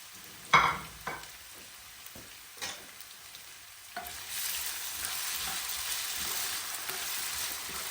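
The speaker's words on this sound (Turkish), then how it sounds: "doğramış olduğumuz patateslerimizi güzelce pişene kadar ara ara karıştıralım" Chopped potatoes hit hot oil in a pan after a few sharp clatters of stirring, then settle into a steady, moderately loud frying hiss that continues to the end.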